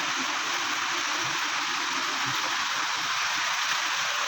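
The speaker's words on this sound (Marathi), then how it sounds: "बघा बघा कसला पाऊस पडतोय, खणखणीत एकदम." Heavy rain falls outside in a continuous, dense hiss that stays steady and fairly close throughout, with no voices over it.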